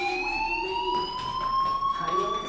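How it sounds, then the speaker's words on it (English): A fire alarm rings in the video game Life is Strange: a steady electronic tone with bright harmonics that sustains without a break, loud and alone. "Hey, do you hear that fire alarm? That means you should be outside."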